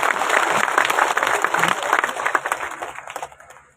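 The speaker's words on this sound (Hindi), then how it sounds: "सारा लोग जोरदार ताली बजाकर अर्जुन राम जी मेघवाल का स्वागत करो" Crowd at a political rally in Taranagar welcomes Arjun Ram Meghwal with loud, sustained applause, dense clapping that stays strong before tapering off.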